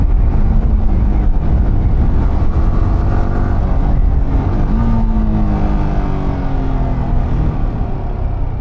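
A Yamaha R15 motorcycle engine runs loud and steady close by, its pitch rising through the revs with brief breaks where the quick shifter snaps through gears, no voices over it.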